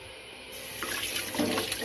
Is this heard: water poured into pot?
yes